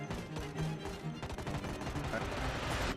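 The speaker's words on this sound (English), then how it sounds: "Watch the gunshots." Bursts of video game gunfire crack rapidly one after another in a car park, dense and close, over a steady noisy backdrop.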